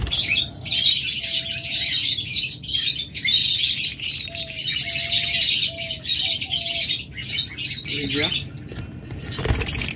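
Caged pet birds at a bird sale, including lovebirds, cockatiels and parrots, give loud overlapping chirps and squawks throughout with a few short tonal whistles, under a person talking.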